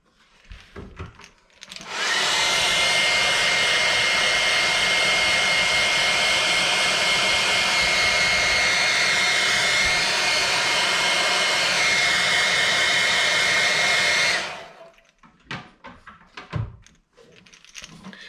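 A hair dryer blows over freshly airbrushed paint on crankbait fishing lures, switching on after a couple of seconds and then running as a loud, steady, close whooshing roar for about twelve seconds before cutting off, with faint handling noises around it.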